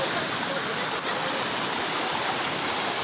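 Water rushes over a river overflow spillway in a continuous, loud, broadband roar with no pauses, heard up close for a few seconds.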